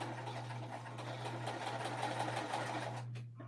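Close by, a sewing machine runs steadily as it stitches a seam, its fast even hum continuing with no talk, then slowing and stopping at the end.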